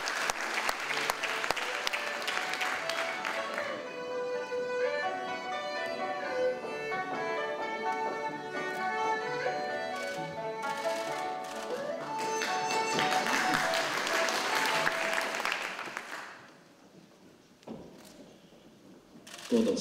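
Audience applause fills the hall at the 22nd TECO Award ceremony, a long, dense clapping that swells midway, while a voice carries through, before fading to quiet near the end.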